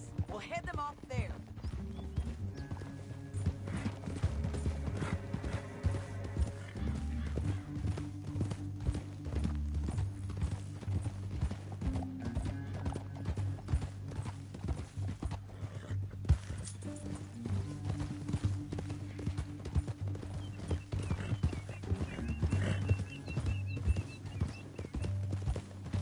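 Horses gallop in the video game Red Dead Redemption II, a steady, rapid clip-clop of hooves running throughout under voices and game sound, with an occasional whinny.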